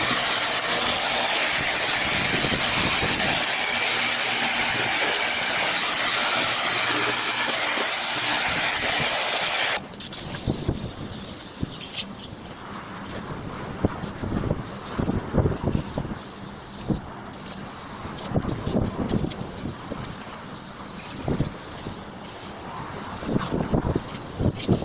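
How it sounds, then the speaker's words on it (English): A pressure washer sprays MGB engine parts during a restoration, a steady loud hissing blast for about ten seconds, then stopping to leave clattering handling noises and intermittent short bursts. "next thing to do is I'm going to give it a preliminary pressure wash"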